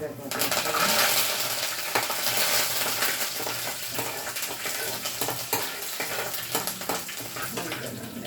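Curry leaves hit hot tempering oil for a chutney and sizzle loudly and close up, a dense crackling spatter with sharp pops and occasional clinks of a stirring spoon against the pan.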